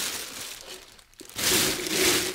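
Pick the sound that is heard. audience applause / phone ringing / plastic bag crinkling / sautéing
plastic bag crinkling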